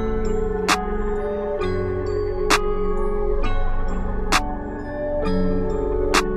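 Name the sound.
clap drum sample from Euphoria kit in FL Studio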